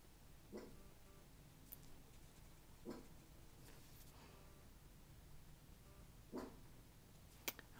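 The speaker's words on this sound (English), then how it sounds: "My dog barking in the background." A dog barks a handful of times at irregular intervals, faint and distant in a quiet room, each bark short and isolated against low background hiss.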